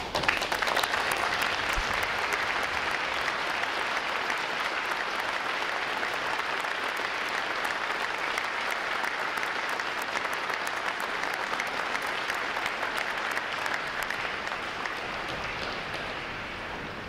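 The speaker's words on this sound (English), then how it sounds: "For all the veterans, please stand so we give you a round of applause." A large audience at a U.S. Navy recruit graduation applauds veterans, a loud, sustained wash of clapping that holds steady and only thins slightly near the end.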